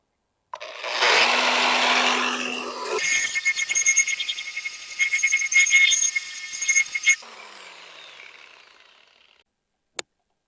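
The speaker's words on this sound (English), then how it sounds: "I did find my grinder with a wire wheel on it. I'm going to clean this off" An angle grinder fitted with a wire wheel scrubs rust and grime off an old cast iron wood cook stove, a harsh whirring grind that rises and wavers for several seconds before spinning down to silence.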